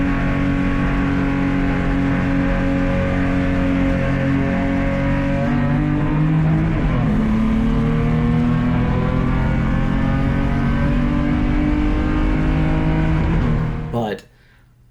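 Race car at speed on the Roebling Road Raceway circuit, a loud, close in-car engine drone with rising and falling harmonic pitch as gears change, cutting off abruptly near the end.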